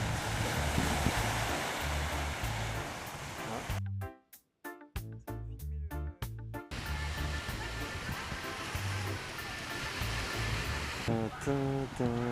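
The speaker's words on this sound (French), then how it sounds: "On est arrivé au bout de la plage d'Oléron." Surf breaking on the beach at Oléron, a steady wash of waves mixed with wind buffeting the microphone, with a brief cut partway through and some tonal sounds near the end.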